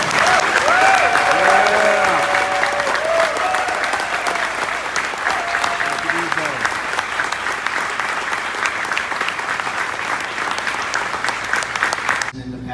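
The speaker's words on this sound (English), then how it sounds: "BJ Callaghan, huge round of applause." Supporters at a Nashville SC fan event applaud new coach BJ Callaghan, with loud sustained clapping and crowd noise throughout and a few brief voices early on.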